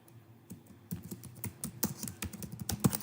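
Brisk keystrokes rattle on a computer keyboard while a DHCP scope name is entered on Windows Server 2019, starting sparse and then speeding into a dense, uneven run of close clicks with no voices.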